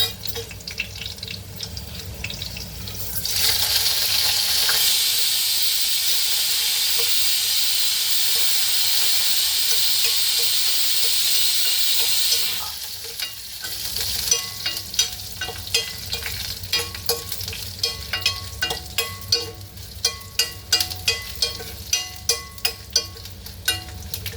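Onions frying in a hot pan and being stirred, a steady loud sizzle for several seconds that gives way to repeated scraping and stirring clatter with the sizzle continuing beneath.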